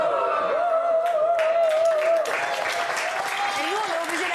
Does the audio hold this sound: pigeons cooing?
no